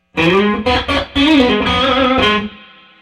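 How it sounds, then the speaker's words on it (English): A Fender American Strat played through an EVH 5150 overdrive pedal into a Hot Rod Deluxe amp, a loud, distorted blues phrase of bent and sustained notes that rings out and fades. "So I got the Hot Rod Deluxe, the Fender American Strat, and an EVH 5150 overdrive."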